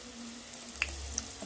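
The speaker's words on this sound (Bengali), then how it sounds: "তেলটা গরম হয়ে গেছে, এবার এর ভেতর চপগুলোকে ভেজে তুলব।" Vegetable chops fry in hot oil with a faint, steady sizzle and a few sharp pops over a brief stretch.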